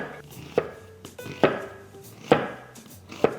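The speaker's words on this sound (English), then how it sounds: "If you cut your onion like this, you won't get too many tears in your eyes" A knife cuts through an onion on a board for a quiche with hashbrowns, giving four evenly spaced, crisp chops close by with brief quiet gaps between them and no talking.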